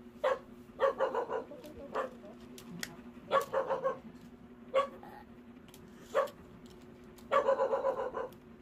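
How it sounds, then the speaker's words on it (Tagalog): A dog barks in several quick bursts spaced across the clip, with short pauses between, over a steady low hum; fairly close and moderately loud. "Maingay po ang aming aso"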